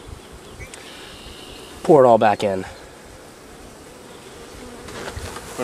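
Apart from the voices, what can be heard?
honey bees buzzing while hiving a box of bees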